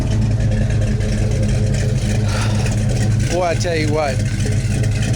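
A car engine rumbles loudly through a stainless steel exhaust, a steady low drone with rising revs, while someone talks over it.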